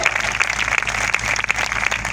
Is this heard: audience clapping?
yes